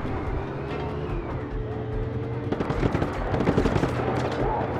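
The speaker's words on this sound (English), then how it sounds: "This probably wasn't the best city place to use a tank." A tank rumbling through city streets in Just Cause 3, engine drone underneath, then a burst of rapid gunfire and heavy impacts in the second half, loud and close.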